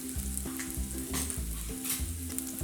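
Garlic and turmeric fry in a pan for a dry pepper potato masala curry, giving a steady close sizzle broken by the rhythmic scrape of stirring, with no talk.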